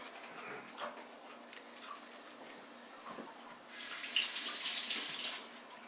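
Hands being wet under a running kitchen faucet while making a cheese torta, a soft rush of water that swells near the end after quiet handling noises, faint and close.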